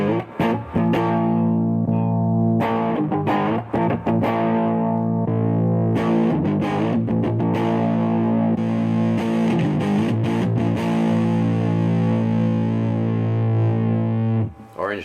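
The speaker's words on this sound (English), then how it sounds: "starting with tube overdrive." Electric guitar through the tube overdrive effect of a Korg AX3000G multi-effects unit, loud saturated chords and riffs played solo, with sustained distorted notes ringing out near the end.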